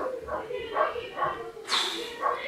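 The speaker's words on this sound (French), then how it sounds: "il y a le chien qui aboie" A dog barks and yips in a series of short, moderately close calls inside a home in Ireland, with a higher, sharper burst near the end.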